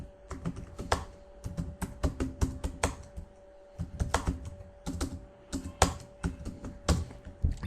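Rapid keystrokes on a computer keyboard as a Google search is entered, coming in bursts of close, crisp clicks with brief pauses between runs.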